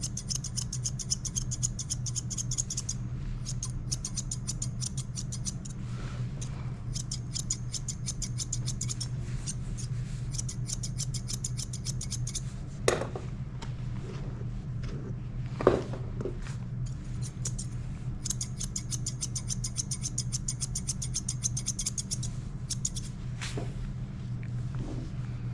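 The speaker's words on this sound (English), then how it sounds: "The reason I'm using thinning shears instead of scissors" Close, crisp snipping of thinning shears cutting a Shih Tzu's coat comes in rapid bursts separated by pauses, with a couple of soft knocks and a steady low background hum.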